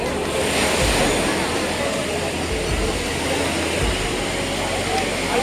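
Sea waves at Kovalam beach roar in a constant loud wash of surf, with a few heavier low thumps as breakers land, while voices are faintly present beneath.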